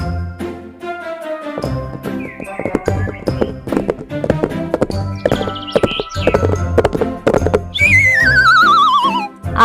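A horse gives a loud, wavering neigh near the end, after a stretch of bouncy music with light tapping and jingling accents.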